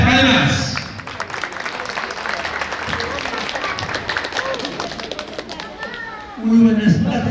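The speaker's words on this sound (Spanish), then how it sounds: "señor Wilfredo Ramos Vilcañagua, para quien también le pido las fuertes palmas." Guests at a baptism celebration applaud in a dense, sustained burst of clapping lasting several seconds, with crowd chatter mixed in and a voice rising over it near the end.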